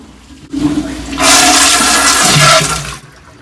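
A toilet flushes in a hot, stuffy room of an old house, starting with a click and building into a loud, steady rush of water that lasts about two seconds before cutting off.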